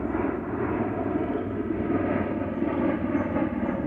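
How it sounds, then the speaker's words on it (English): A twin-propeller military plane flies over, its steady droning engine roar fairly faint and distant, holding evenly throughout with no talk. "Military plane, two propellers."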